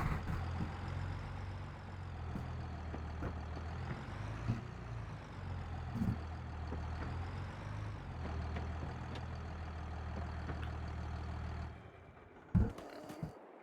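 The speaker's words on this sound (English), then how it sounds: "I'll get the tractor hooked onto it now." A tractor engine in Farming Simulator 22 runs at a steady, low idle that rumbles throughout, with small clanks on top. It cuts out briefly near the end and is followed by a short knock.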